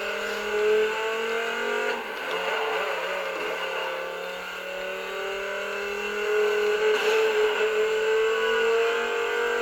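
A car engine revs in the Need for Speed Most Wanted racing game on Xbox 360, its tone climbing and holding in long, smooth sweeps. The sound is loud and continuous, with surges of acceleration and no talking.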